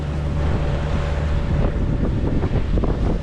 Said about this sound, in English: Right now there's actually not a horrible breeze